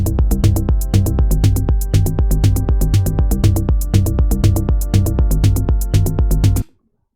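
A groove of punchy kicks and crisp percussion hits over a syncopated bass line, repeating in tight even bars, loud and upfront, then stopping abruptly.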